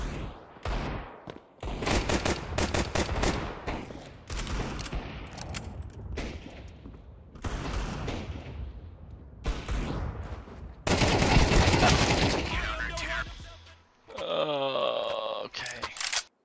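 Bursts of rapid automatic gunfire from a teammate in the video game Counter Strike 2 crackle loudly in repeated volleys, with game sounds and brief voice sounds mixed in.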